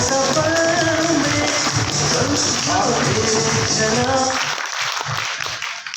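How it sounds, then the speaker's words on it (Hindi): Dense, sustained applause from a business meeting audience at an RCM Business gathering fills the whole stretch at close range, with some tonal voices or music mixed in, thinning slightly near the end. "इनके लिए एक बार जोरदार तालियां हो जाए"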